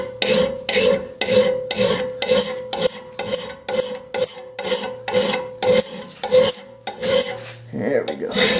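A metal file sharpens a lawn mower blade in a steady run of about fourteen close, loud rasping strokes with a brief pause between each.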